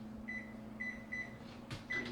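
A microwave oven cooking scrambled eggs hums steadily and quietly, with repeated thin electronic tones and a single clunk near the end.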